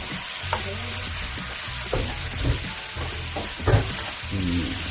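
Kimchi frying in a pan for kimchi fried rice, a continuous loud sizzle with periodic scraping and stirring strokes of a utensil, no talking.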